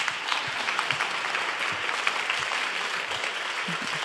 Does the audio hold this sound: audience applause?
yes